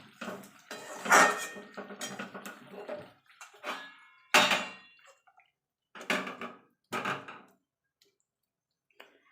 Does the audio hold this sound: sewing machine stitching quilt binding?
no